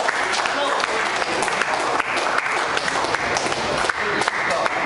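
Audience applause fills a powerlifting competition hall in a steady, dense wash of clapping with no break, loud and close, and voices mix into the crowd noise.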